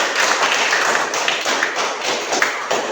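A classroom group applauds after class presentations in a Catholic religious education session, a dense, steady clatter of many hands clapping together, loud and close for a few seconds.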